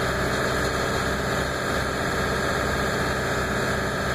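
Ford F350 pickup truck engine idling with an intermittent hiccup fault, a steady loud mechanical drone with faint tonal whine and slight unevenness, continuous throughout with no talk.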